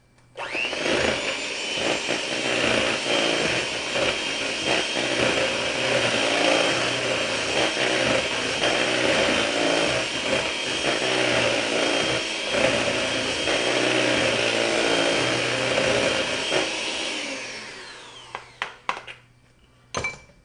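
An electric mixer whirs loudly and steadily while blending sugar and vanilla extract for chocolate chip cookie dough, then winds down near the end and is followed by a few clunks and knocks.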